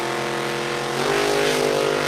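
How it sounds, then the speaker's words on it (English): A Dodge Neon racing at a dragway, its engine droning loud and steady, then rising in pitch as it accelerates hard down the strip, with no talk over it. "Bosick, Dodge Neon from Chicago, Illinois."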